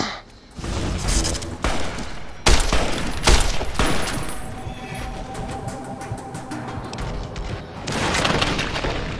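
Sniper-fired rocket launcher blasts in Fallout New Vegas: several loud booming explosions cluster mid-clip amid dense, continuous battle noise, with another surge of heavy combat near the end.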